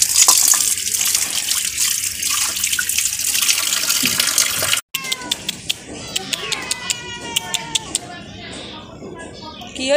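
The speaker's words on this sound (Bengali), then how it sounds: "আরও কিছু বাসন আছে, মেজে নেব।" Dishes are scrubbed under a running outdoor tap, with water gushing and splashing loudly and steadily, broken by a brief pause and then sharp clinks of pots and utensils, with voices in the background.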